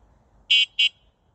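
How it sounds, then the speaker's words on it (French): Two short, bright electronic horn beeps from an EKX X20 electric bike's handlebar controls, close and loud, with a brief gap between them and quiet before and after. "klaxon, et vous regardez, ça marche plutôt bien"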